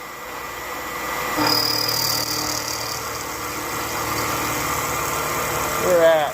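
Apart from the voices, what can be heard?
milling machine cutting with 3/8 carbide end mill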